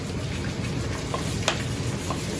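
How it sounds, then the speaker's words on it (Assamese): Mutton pulao ingredients cooking in a hot kadai, with a steady close sizzle, a few soft stirring scrapes and one sharp clink near the middle, with no talking. "এয়া এতিয়া গৰম কেৰাহীত কৰিছে।"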